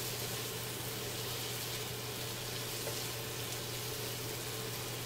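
Spices including turmeric powder fried in a pan for an aloo slices dish, a faint, even, continuous sizzling hiss with a low steady hum beneath, no talking.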